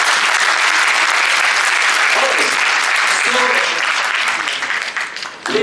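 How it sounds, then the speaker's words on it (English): Audience applause for East Mojo at a journalism talk, steady loud clapping from a large crowd that holds throughout and thins slightly at the end, with a few voices mixed in. "Big round of applause to East Mojo."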